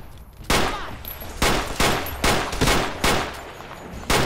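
Gunfire in Fallout New Vegas, a series of sharp, loud shots spaced roughly every half second to a second, about seven cracks with short echoing tails, close and without talk.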